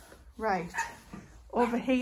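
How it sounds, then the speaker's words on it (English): A dog barks and yips a few times close by on a smallholding, mixed in with someone talking over it. "excuse the dogs"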